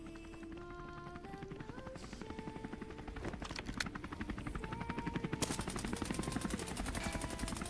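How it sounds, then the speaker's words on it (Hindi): A helicopter's rotor chop whirs steadily in the Scarfall 2.0 shooter game while bursts of rapid gunfire and automatic weapon rattle cut in, growing denser and louder toward the end. "तभी यहाँ पर ना भाई हेलीकॉप्टर का साउंड आ जाता है।"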